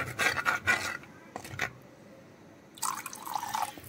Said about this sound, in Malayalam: ഇനി ഇതിലേക്ക് കുറച്ച് ചൂട് വെള്ളം ഒഴിച്ചു കൊടുക്കാം